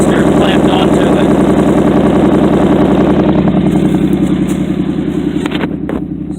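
A 1975 Plymouth Valiant with a Slant 6 engine runs loud and close, its stock manifold feeding a clamped-on Flowmaster muffler, giving a steady, rumbling idle with a throbbing pulse that eases slightly toward the end.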